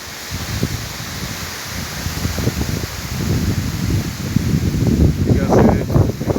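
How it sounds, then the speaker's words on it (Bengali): Strong storm wind roars through trees with leaves rustling and rain falling, a loud, continuous broadband gusting that swells toward the end. "দেখুন কি পরিমাণ বাতাস।"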